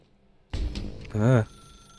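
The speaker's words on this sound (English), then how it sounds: "Now pick up the phone, said the bucket." A telephone rings in The Stanley Parable, a loud modulated electronic ring in a dark room, heard alone after a moment of near silence.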